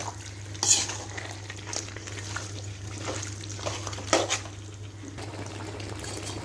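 Chicken pieces being mixed with turmeric powder in a pan, a soft steady sizzle with a couple of louder scraping stirs, close and without talk.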